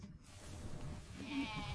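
Goats on a farm bleat in a brief, wavering cry over a steady background hum.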